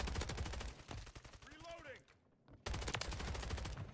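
An AMR9 sniper rifle fires in Modern Warfare 3 gameplay, loud sharp shots in rapid bursts with a brief lull and a rising tone in the middle, then the gunfire resumes hard.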